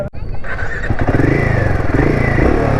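A Royal Enfield Himalayan 450 motorcycle is started up nearby: a brief starter crank catches into a loud, steady idle with slight revving, heard on its own without talk.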